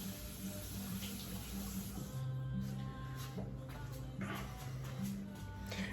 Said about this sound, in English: I just rinse my hands off real quick